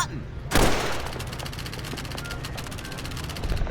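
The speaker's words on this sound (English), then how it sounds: "like when you're firing a gun or throwing a grenade like Huxley here, it actually sounds closer to real sound effects" Gunfire from the video game Call of Duty 3: a sharp loud shot followed by a rapid, steady machine-gun burst of repeated cracks over a low battlefield rumble.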